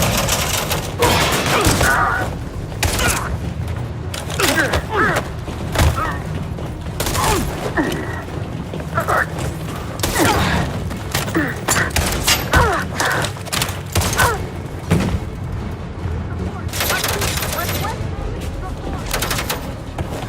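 Dense gunfire rattles through a firefight in the video game Detroit: Become Human, continuous bursts and heavy thuds layered with shouted voices for the whole stretch.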